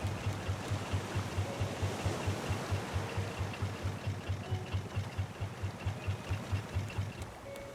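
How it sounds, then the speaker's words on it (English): A raft engine runs in the survival video game Raft, a steady rhythmic low chugging with regular pulses repeating throughout, over faint ambient water and wind noise. "Activate engine."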